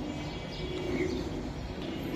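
Racing pigeons coo softly in a low, murmuring burble, with faint chirps over a dense, close background.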